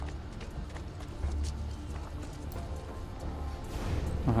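Horse hooves clip-clop in a steady rhythm in Assassin's Creed II, close by amid a busy game soundscape with low rumbling ambience and occasional clatter.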